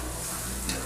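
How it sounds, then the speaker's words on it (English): Garlic and onions sizzle steadily in a pan while being stirred, a dense close crackling hiss with a brief scrape of the spoon near the end. "So keep stirring, stirring."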